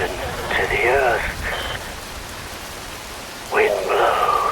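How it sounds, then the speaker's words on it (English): Steady rain pours in the video game Metal Gear Rising: Revengeance, a constant hiss under two short spoken passages. "Wind blows, rain falls."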